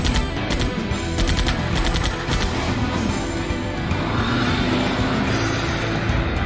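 A car starting and driving off in the adventure video game Runaway, a loud, dense engine roar that runs unbroken, with rapid gunfire-like bursts crackling through the first half.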